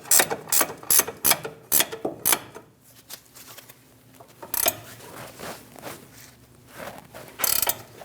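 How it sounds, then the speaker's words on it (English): A ratchet snugging the upper ball joint nut on a 2001-2006 Chevrolet Silverado 2500 HD steering knuckle, bursts of close, sharp clicking strokes with pauses between, louder at the start and again near the end. "Snug down the upper ball joint nut."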